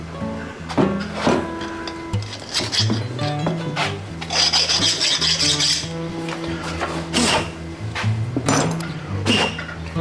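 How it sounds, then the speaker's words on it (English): A metal file rasps against parts while LS engine accessories are fitted to a 1948 GMC pickup truck, with repeated strokes over a shop hum and scattered clinks, no voices. "That is a file. Some filing action."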